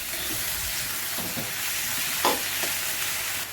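Onions and tomatoes sauté in a pan with a soft, even sizzle, broken by a few scraping stirs of a spoon, heard close and fairly quiet with no talking.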